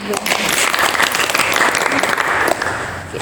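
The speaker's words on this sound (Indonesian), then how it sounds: "Tepuk tangan dong." Applause from a small group during a student executive board podcast chat, loud, close clapping lasting about three seconds, with some voices mixed in.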